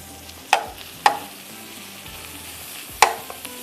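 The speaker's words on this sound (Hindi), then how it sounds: "अच्छी तरह से इसको मसाले को आपने भून लेना है" Masala with ground garam masala fried in a pan, a soft sizzle broken by three sharp stirring clacks of a spoon against the metal, close up and without speech.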